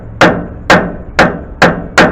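Five sharp metallic hammer strikes land at an even rhythm, about half a second apart, driving a rear wheel bearing into a 2WD Chevy Silverado / GMC Sierra axle; loud and close, no talk.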